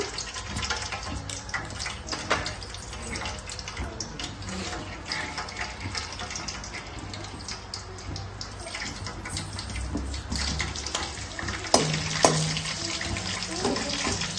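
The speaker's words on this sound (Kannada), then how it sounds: "ಇನ್ನು ಕಾದಿದೆ, ಸ್ವಲ್ಪ ಸಾಸಿವೆ ಹಾಕೋಣ." Mustard seeds sizzle and crackle in hot oil in a pan for egg rice, a steady, dense frying hiss with scattered pops throughout and a few sharper spatters near the end.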